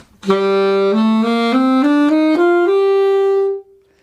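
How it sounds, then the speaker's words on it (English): A single melodic instrument plays a natural minor scale upward, eight steady notes in even rhythm, the last held briefly, with no talking. "here's regular natural minor."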